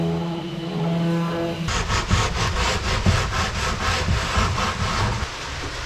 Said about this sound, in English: Now it's just a matter of doing some fine sanding